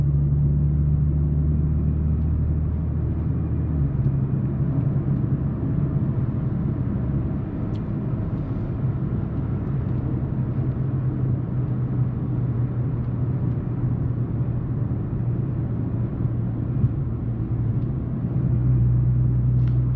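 Low, steady engine drone and exhaust rumble of a supercharged Audi S4 heard from inside the cabin while cruising, muffled and continuous with faint road noise throughout.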